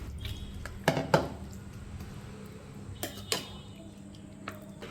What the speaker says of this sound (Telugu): కొద్దిగా వాటర్ని కూడా యాడ్ చేసుకొని మొత్తం అంతా మిక్స్ అయ్యేలా కలుపుకోవాలి.